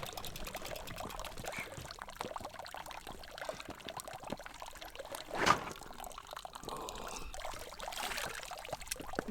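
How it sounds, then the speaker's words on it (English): Shower water running on a bikepacking trip in Italy, a steady close patter and trickle of falling water at a moderate level, with one brief louder splash midway. "Yeah, time for a shower or something."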